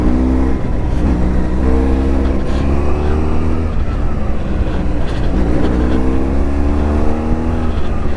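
A BMW F700GS motorcycle on a bumpy little Alpine track rolls over a grate and gets back on the throttle, its engine note climbing and dropping repeatedly under continuous wind noise, heard up close.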